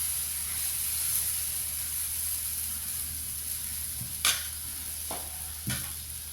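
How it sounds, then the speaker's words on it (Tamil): Millet dosa batter sizzles steadily on a hot tawa with a soft frying hiss, broken by a few sharp clinks of a utensil near the end. "திருப்பி தோசையை ஊற்றிக்கலாம்."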